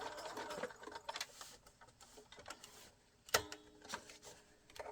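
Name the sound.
sewing machine stitching quilt binding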